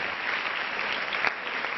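An audience at a medical students' conference applauds a doctor, with dense, steady clapping that holds evenly throughout and has one slightly louder clap near the end.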